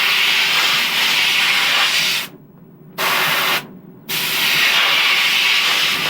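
Spray painting brown trim onto a fishing lure at a lure foundry: a steady, close hiss of sprayed paint runs through, stopping briefly twice in short gaps before resuming.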